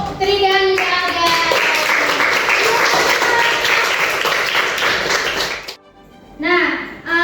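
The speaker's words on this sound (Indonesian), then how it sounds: "Oke, tepuk tangan untuk Tri dan Olga" Students clap in a math classroom, a burst of lively close applause mixed with voices, fading briefly near the end before a short return with speech.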